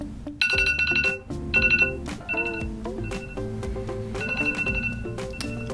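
An iPhone timer alert on iOS 17 rings out as a repeating bright electronic melody, loud and close, with steady bursts of chiming tones and no talking.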